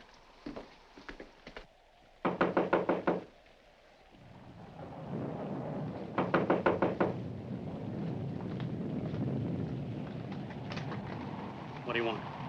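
Two bursts of rapid, firm knocking at a front door ring out in a 1940s film-noir thriller, set against rolling thunder and rain, with voices talking in between.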